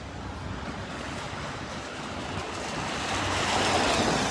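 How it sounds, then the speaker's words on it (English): Steady gusting wind roars across the microphone as a cold front moves into New York City, a broad continuous rush that builds slightly toward the end with no voices. "Now there's finally starting to be some wind."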